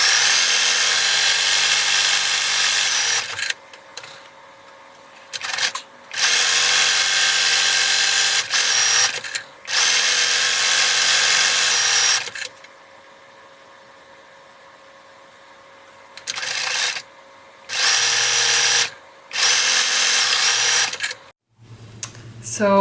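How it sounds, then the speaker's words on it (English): A serger sews a stretch-stitch seam on baby leggings made from stretch fabric, running in several loud, steady whirring bursts separated by short pauses. "Sew this with a stretch stitch, either a zigzag stitch or a serger, at 3/8 of an inch seam allowance."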